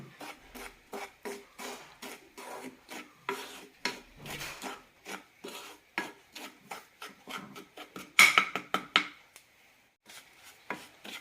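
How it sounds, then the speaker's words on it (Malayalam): Moong dal flour roasts in ghee in a pan while a spoon scrapes and stirs it in steady, close rhythmic strokes, with a sharper clatter near the end; no voices. "രണ്ട് 3 മിനിറ്റ് നന്നായി വറുത്തെടുക്കാം."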